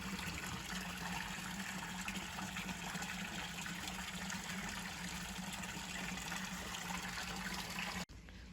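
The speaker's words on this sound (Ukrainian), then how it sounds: "От витікає вода." Continuous rushing flow of spring water pouring out steadily at the Royal Spring in Lviv, a broad even gush that cuts off sharply just before the end.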